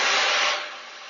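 A loud hairdryer blows close by with a steady broadband roar that eases slightly in level toward the end, heard alone.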